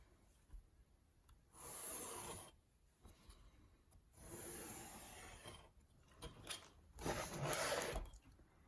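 Pencil dragged along a ruler on paper, three soft scratchy strokes of a second or two each with quiet pauses between, faint and close.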